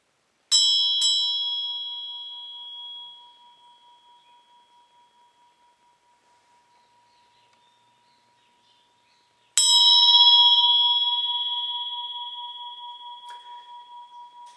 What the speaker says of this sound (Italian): le vibrazioni dell'om che questa campana tibetana riproduce